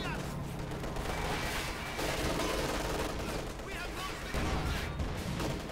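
Mortar blasts and gunfire from a Company of Heroes 2 battle: dense, continuous bursts of shots and booming impacts layered over busy combat noise.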